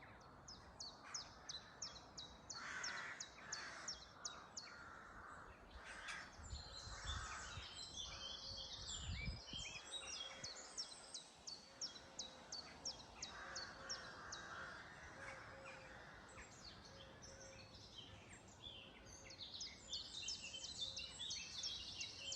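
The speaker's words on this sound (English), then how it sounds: "try and pick out how many bird noises or sounds you can hear." Outdoor birdsong with several birds calling at once, repeated chirps and trills alongside occasional caws, steady and moderately distant over soft background ambience, with a brief low rumble midway.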